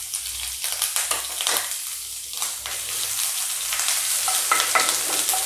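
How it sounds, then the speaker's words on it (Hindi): Green chilli and ginger hit hot oil and fry with a bright, crackling sizzle, punctuated by repeated sharp pops and spatters, close and fairly loud, with no talking over it. "तेल गर्म हो चुका है, तो इसमें हम हरी मिर्च, अदरक"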